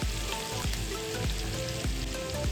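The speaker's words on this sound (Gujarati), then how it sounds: "આપણે 1 મિનિટ તેલમાં સાતરી લઈશું એટલે એની તીખાશ ઉતરી જાય" Green chilies sizzle in hot oil in a pan, a steady crackling fry punctuated by repeated stirring scrapes at regular intervals, close and moderately quiet, with no talk.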